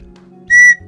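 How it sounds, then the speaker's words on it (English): A single clear whistle tone from a Cosmic Artefact Inscape puzzle box, a short bright blast of about a quarter second over a faint low hum, loud and close. "They're whistles."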